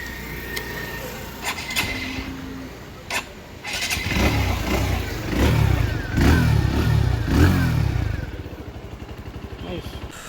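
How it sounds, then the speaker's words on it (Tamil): A 2025 TVS Sport 110 motorcycle cranks and fires up after a few clicks and short attempts, then its exhaust burbles with a steady low chug and a couple of throttle blips, close and fairly loud. "இப்போ இந்த வண்டியோட எக்ஸாஸ்ட் மட்டும் கேட்போம்"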